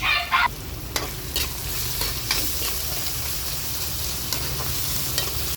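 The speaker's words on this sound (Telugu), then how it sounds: "ఇది వేగుతున్నప్పుడే ఒక చెంచా అల్లం వెల్లుల్లి పేస్ట్ వేసుకోవాలండి" Ginger garlic paste with curry leaves frying in hot oil for a hotel-style puri kurma, a loud, steady close crackling sizzle with a few sharp spits and stirring scrapes throughout; no talking.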